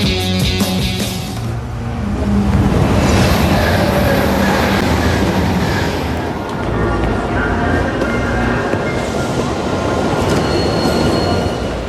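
A train bound for Berlin rolls along with a loud, steady rumble and rattling wheels on the track, a continuous dense roar with faint squeals and background movie sound, with no talking.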